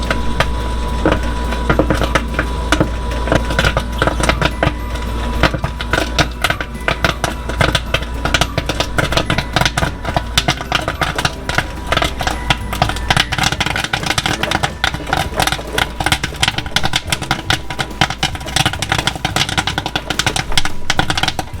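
Popcorn popping in a spinning popcorn machine with a pink cherry glaze, a dense continuous crackle of rapid pops over a steady low machine hum, close and loud with no talking.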